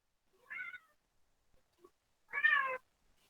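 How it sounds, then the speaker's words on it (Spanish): A pet cat meows twice indoors, a short call followed by a louder, longer one, with quiet gaps around them. "me está llamando mi gato"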